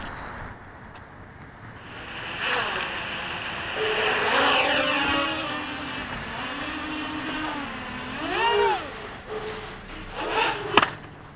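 A small 250-size quadcopter with YKS brushless motors in flight, its motors whining and rising and falling in pitch as it throttles up and maneuvers, moderately loud and without speech.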